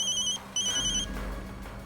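A phone ringtone trills in two bursts with a short gap, bright and clear, over a low background hum.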